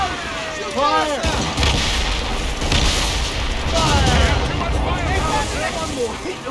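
Ship cannons fire volleys during a naval battle in Assassin's Creed Rogue, with repeated heavy booms over rumbling sea and wind. Voices shout over the barrage.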